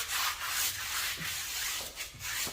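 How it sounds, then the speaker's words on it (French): Abrasive brush scrubbing a tyre being cleaned with a rubber cleaner, close rhythmic bristly rasping strokes repeating roughly every half second, steady and loud with no talk. "Puis on va frotter notre pneu tranquillement en prenant soin de faire attention à notre trou parce que c'est quand même assez abrasif comme brosse"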